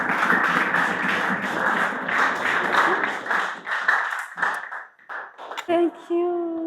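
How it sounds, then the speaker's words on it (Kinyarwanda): Crowd applause at a birthday celebration with fans: dense, loud clapping and cheering for about four seconds, thinning into scattered claps before a voice speaks over the tail end. "Mufashe tuyikomera amashyi menshi cyane,"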